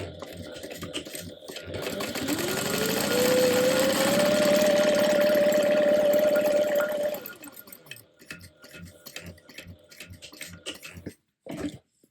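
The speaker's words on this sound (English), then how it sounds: "now you're going to stitch one more time, and this time it's going to be 1/8 of an inch from the edge" A sewing machine stitches fabric an eighth of an inch from the edge in one continuous run of about five seconds. Its whine rises as it speeds up, holds steady, then stops, followed by light handling clicks.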